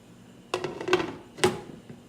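A metal lid set back onto a pot of pasta on the stove, heard as two sharp close clanks about a second apart with brief ringing.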